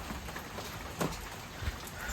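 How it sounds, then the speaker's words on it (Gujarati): Steady monsoon-season rain falls outdoors at the Matheran hill station, a soft, even hiss that fills the whole stretch, with a couple of brief louder patters near the middle and end. "વરસાદ આવે છે"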